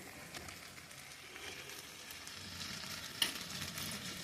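Chicken curry masala fries in a pan with a steady, even sizzle and faint crackle, plus one brief sharp tick near the end; no voices.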